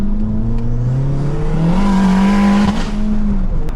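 A 500bhp Honda Civic FN2 Type R pulling hard in second gear, with a loud engine note that climbs steadily in pitch through the rev range and dips briefly near the end with a gear change.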